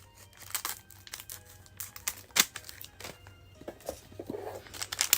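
Foil trading card pack wrappers crinkle and crackle as they are cut open, with intermittent sharp rustles and small tearing bursts at close range.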